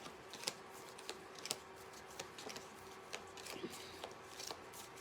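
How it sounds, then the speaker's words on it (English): Soft riffling of a deck of cards being shuffled, with faint irregular clicks and brief flutters repeating over several seconds, quiet and close. "I'm just shuffling the deck as usual"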